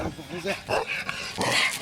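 A Dalmatian snarls at another dog and lets out short aggressive growling barks, close up, mixed with brief talking.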